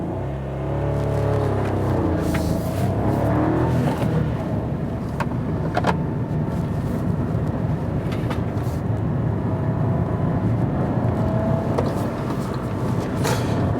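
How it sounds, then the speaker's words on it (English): A 2017/2018 Kia Picanto accelerates on a test drive, giving a steady, broad engine and road roar that holds at an even level for about fourteen seconds, with no talking. "we can check the acceleration of the car"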